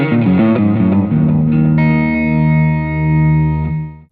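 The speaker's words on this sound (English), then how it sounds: "So here's a digital delay." Electric guitar played through a Spark amp with a digital delay effect, sustained distorted chords ringing out with repeating echoes and a long decaying tail, loud and alone.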